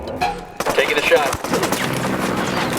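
Gunshots in the tactical shooter Ghost Recon Wildlands: a sharp, loud report cracks out, then a second blast follows shortly after, over busy background game noise.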